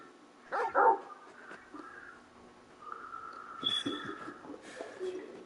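Torgal, a large dog in Final Fantasy XVI, gives a couple of short barks up close, then softer whimpers and yips in a quiet game scene.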